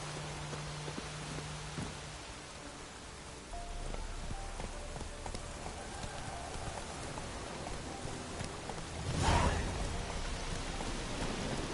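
Steady rain downpour in the video game Witcher 3, a constant wash of falling water on surfaces that swells slightly, with a brief louder rumbling burst near the end before the even hiss resumes.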